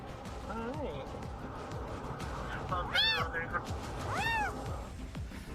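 Kitten rescued from a concrete barrier on a highway shoulder gives several faint meows, one near the start and a clearer pair later, under people talking and steady road noise.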